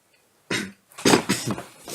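A few sharp coughs burst out after a short silence, close and fairly loud, in quick irregular succession.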